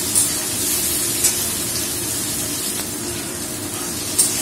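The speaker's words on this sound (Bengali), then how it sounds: "ফুলকপিটা নিচ্ছি, এবার এটাকে ভালো করে একটু ভাজতে হবে, হলুদ নুন দিয়ে দেবো" Cauliflower frying in a pan with turmeric and salt gives a steady, even hiss of sizzling oil with a few faint pops, continuous and fairly close.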